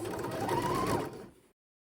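A sewing machine stitches a shirt sleeve in steady, continuous running for about a second and a half, then winds down and stops, leaving silence.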